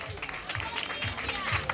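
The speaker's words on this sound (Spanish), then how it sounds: "Fuerte el aplauso, por favor." Audience applause for the second princess at a community pageant held by a foundation in Riosucio, a steady crowd clapping that fills the short moment with a voice talking over it.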